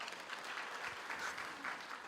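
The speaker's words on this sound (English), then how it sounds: "Can you give the planning team a round of applause?" Steady applause from a graduation ceremony audience for the planning team, a continuous dense patter of many hands clapping at moderate distance, with no voices over it.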